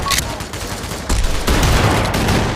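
Gunfire in a video game: a burst of rapid shots at the start, then scattered sharp cracks and a rough, noisy stretch of continued firing, fairly loud and close.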